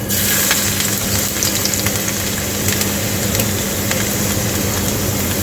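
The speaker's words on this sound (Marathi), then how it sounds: "यामध्ये आपल्याला जिरं घालून घ्यायचं आहे आपलं जिरं फुललं की त्यानंतर त्यामध्ये लसूण घालायचं आहे" Cumin seeds and garlic sizzling in hot oil while cooking a wild leafy vegetable, a loud, steady, close frying hiss with occasional small pops that continues throughout.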